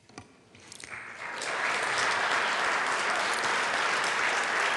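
Applause breaks out in a state legislative chamber after a resolution passes, starting with a few claps and swelling within two seconds into loud, sustained clapping from the whole room.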